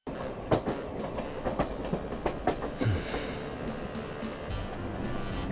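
A subway train rolls along its rails with a rhythmic clickety-clack of wheels over joints, then settles into a steady rumbling roar, close and moderately loud.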